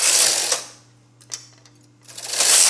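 A knitting machine carriage knits two rows, making two loud, close mechanical swooshes with a rattling clack, separated by a quiet pause with a faint hum and a single click.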